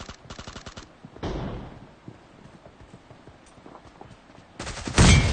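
Gunfire in the BGMI battle royale video game: rapid bursts of automatic shots open the clip and return louder near the end, with quieter scattered game sounds in between.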